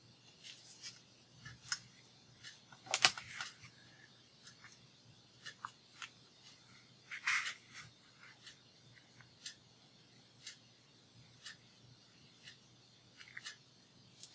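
Quiet, scattered snips and rustles of scissors cutting at close range, irregular and faint, with no one speaking.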